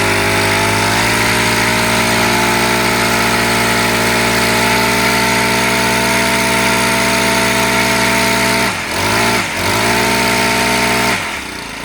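A gas string trimmer engine runs loud and close at a steady, buzzing idle, dips briefly a couple of times near the end, then keeps running.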